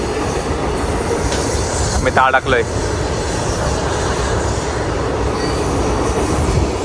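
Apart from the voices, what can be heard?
train running on rails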